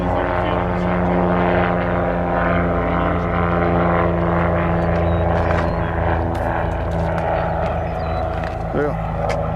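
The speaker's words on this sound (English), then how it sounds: "Cessna's on the field at the same time." Small Cessna propeller aircraft at Nashville International Airport, a steady loud droning engine and propeller hum with tonal layers lasting throughout, with people talking over it.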